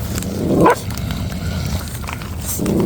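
Aggressive adult dogs bark at new puppies, giving a couple of short, rough barks amid a noisy, scuffling background, moderately close and loud.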